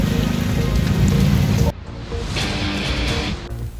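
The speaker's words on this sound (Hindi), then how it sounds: "2 दिन के बाद में ये बारिश होने लगी है" Rain falls steadily in Dholpur, a dense, even hiss throughout, with the sound changing partway through as if the location shifts to a lighter, brighter patter.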